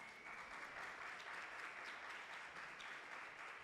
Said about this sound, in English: you can clap for them too